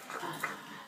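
A young puppy makes a brief, soft vocal sound, a faint whimpering yip lasting under a second, close by and quiet.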